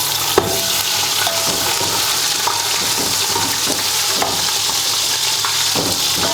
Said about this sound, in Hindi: अब इसमें डालते हैं 2 टेबलस्पून अदरक और लहसुन का पेस्ट।